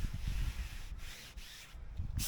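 A cloth rubs steadily back and forth across a surface, wiping it down with a soft, continuous scrubbing hiss, close and fairly quiet.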